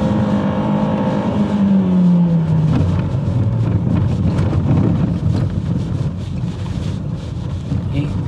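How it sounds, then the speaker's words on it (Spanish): Renault Duster 4WD with a 1.3 turbo direct-injection engine revving hard in second gear up to the rev limiter, a loud rising engine tone under steady wind and road noise from inside the car. "En el corte de revoluciones."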